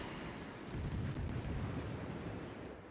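An enemy ship fires its guns in a naval warship game, a muffled, distant rumble of heavy artillery that rolls on as a low, dense boom without distinct sharp shots.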